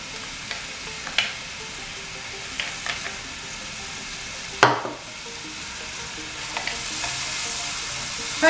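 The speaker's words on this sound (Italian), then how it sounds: "faccio soffriggere un po'" Onion and chili pepper sautéing in a pan for chili con carne, a steady close sizzle broken by occasional spatula scrapes and one louder clatter midway.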